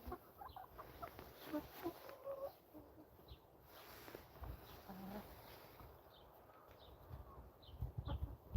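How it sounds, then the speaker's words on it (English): Chickens, including a black bantam-sized hen, cluck faintly and intermittently in a quiet farmyard, soft scattered calls over low background noise. "Is the black chicken, Connor, is it like the size of a kikiriki or size of a bantam"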